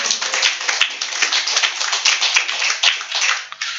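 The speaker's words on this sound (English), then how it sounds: "give him a round of applause" Dense applause from an audience at an ISKCON temple festival class, many hands clapping steadily and loudly for a few seconds before fading off at the end.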